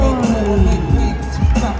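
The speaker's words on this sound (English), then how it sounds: "This sold-out crowd is bumping for B-Boy right now" A sold-out independent wrestling crowd roars for B-Boy, a loud, dense, continuous swell of cheering and shouting that rises and falls in waves.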